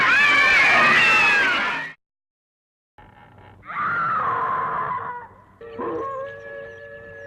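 Cats yowl and meow in a horror film trailer: a long, loud caterwaul, a short silence, then several drawn-out, wavering meows close to the listener.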